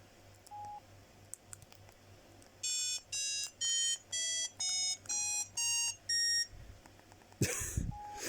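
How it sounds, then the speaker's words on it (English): An old mobile phone's built-in composer plays a tune of eight evenly spaced, bright electronic beeps at shifting pitches, close and clear, followed by a short rustle. "this phone is really cool because it has a composer in it"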